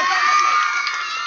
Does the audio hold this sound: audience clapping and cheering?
yes